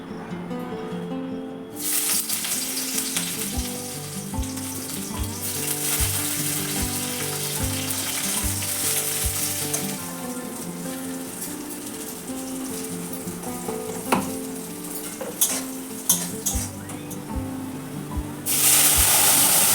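Dal being tempered in a pan gives off a continuous close sizzle of frying, steady for about twenty seconds, with scattered small clicks and knocks.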